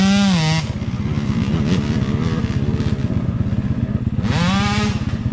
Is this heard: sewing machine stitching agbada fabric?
no